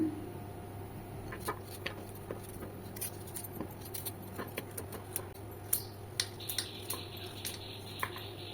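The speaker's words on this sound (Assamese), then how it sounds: "গাজৰখিনি মই এয়া টুকুৰা টুকুৰকৈ কাটি ল'লোঁ" Carrots chopped into pieces with a knife on a board for carrot barfi, a steady series of light, sharp taps at a moderate pace over a low background hum.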